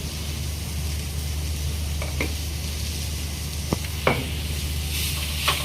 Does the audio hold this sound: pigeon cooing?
no